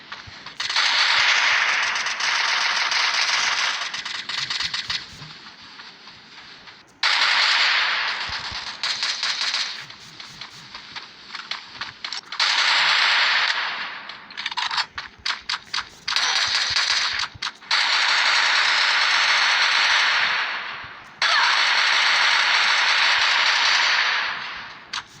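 Rapid, rattling automatic gunfire in the video game Free Fire, heard as long loud bursts repeated over about twenty-five seconds, separated by brief gaps and choppy single shots, with no talking.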